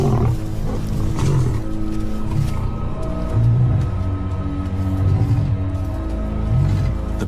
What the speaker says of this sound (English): The pride male roars his final warning.